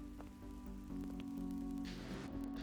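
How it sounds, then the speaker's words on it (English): Steady rain falls in the game Adam Wolfe, a soft continuous patter that sits over a low humming background tone, with a brighter hiss swelling near the end. "It's raining. Oh, that's a nice sound, that is."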